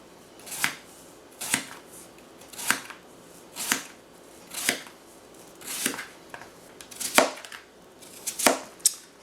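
A knife chops through zucchini on a cutting board, about nine separate sharp cuts at a steady, unhurried pace, close and clear with no talking.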